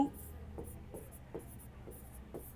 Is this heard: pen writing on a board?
yes